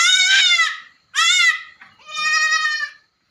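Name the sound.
goats bleating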